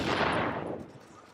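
Gunfire from The Division's Dark Zone rings out as a loud, dense burst of rapid shots that fades quickly into a reverberant tail over about a second, with no talking.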